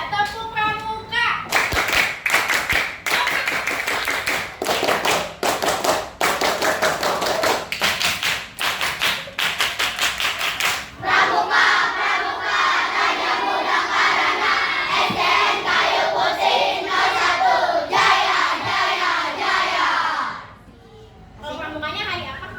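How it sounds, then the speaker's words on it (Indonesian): A classroom of children performs the rhythmic Pramuka scout clap, with sharp, loud, patterned hand claps and chanted voices in unison, then more rapid clapping that stops abruptly near the end. "Kalau gitu 1, 2, 3 tepuk pramuka."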